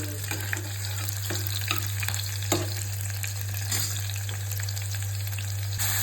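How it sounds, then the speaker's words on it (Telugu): Onions frying in hot oil in a home kitchen while mutton kheema is being made, a steady close sizzle with occasional stirring scrapes and small pops throughout. "ఫస్ట్ ఆయిల్ వేసి అందులో ఆనియన్స్ ఫ్రై చేస్తున్నాం."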